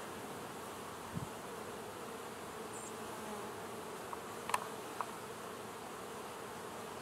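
Honey bees buzz in a steady, even drone around a hive frame holding bee bread and capped brood, a dense swarm sound close by with a few faint clicks of handling and no talk.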